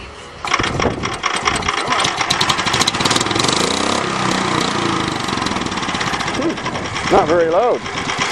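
A modified lawn tractor engine runs on a farm. It gives a steady, rough, rapid putter close by, with a few voices talking faintly over it.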